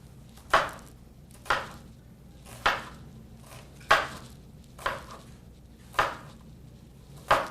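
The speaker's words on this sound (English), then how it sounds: "I'm just going to make a couple of slices going through the onion in one direction" A knife slicing through an onion on a cutting board gives seven crisp, evenly spaced chops about a second apart, each a sharp close knock that fades quickly, with no talking.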